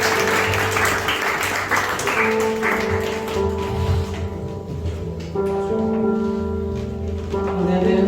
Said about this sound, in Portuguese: Vamos dar uma salva de palmas ao nosso Senhor.